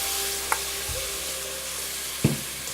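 Tomato frying with Colombo powder in a pan gives a steady close sizzle, broken by a couple of soft knocks as a spoon stirs it.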